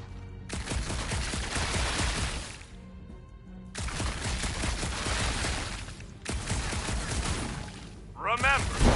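Rapid bursts of gunfire from the video game Marvel's Guardians of the Galaxy, three loud sustained volleys separated by brief pauses, with a voice speaking briefly between them.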